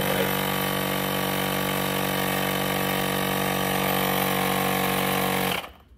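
A battery-powered tire inflator pumps up a mountain bike tire with a steady, loud, buzzing motor drone that runs without a break and then cuts off abruptly near the end.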